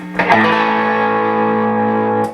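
A guitar note or chord rings out with a distorted, overdriven tone from an MXR drive pedal into a Marshall Origin 50 amp, sustaining evenly for about two seconds before cutting off.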